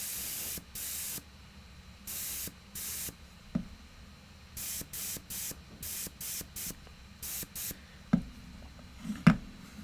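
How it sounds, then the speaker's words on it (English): Short, regular hissing bursts of a spray gun applying white primer to Warhammer 40k miniatures, about a dozen quick sprays with brief pauses, close by, plus a few faint clicks. "starting with black and then spraying white"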